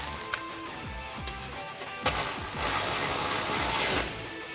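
A ratchet wrench with 12 or 13 mm sockets tightens the bolts of an aftermarket rear bumper on a 2005-2015 Toyota Tacoma. Rapid, close metallic clicking runs steadily, turning denser and louder partway through, with no voices.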